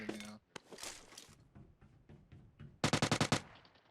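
Rapid burst of automatic gunfire in PUBG Mobile, about seven loud, evenly spaced shots near the end after scattered quieter shots and game noise, close and sharp.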